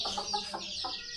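A hen clucks near her chicks in a few quick, close clucks, with faint high peeping in the background.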